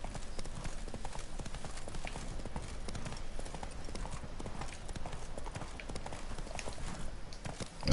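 Roach, Geralt's horse in The Witcher 3: Wild Hunt Blood and Wine, galloping with a fast, steady clip-clop of hooves that runs close and prominent through the whole stretch.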